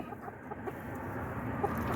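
Soft clucking from a rooster close by, a few short low calls over steady background noise.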